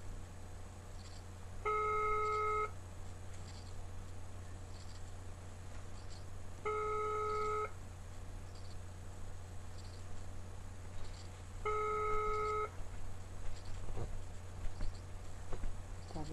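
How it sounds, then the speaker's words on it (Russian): Ringback tones on a phone call, three evenly spaced beeps roughly five seconds apart over a faint steady hum and hiss, heard alone without talk. "Все, гудочки идут."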